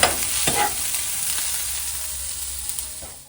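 Onion, cinnamon, cloves, ginger and garlic frying in oil for a sambar masala, a steady close sizzle with a couple of stirring scrapes, no voices.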